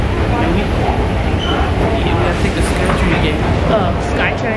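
An airport skytrain rumbles steadily, a dense broadband roar of rails and cabin noise filling the whole stretch with no pauses, loud and close as if riding inside the car.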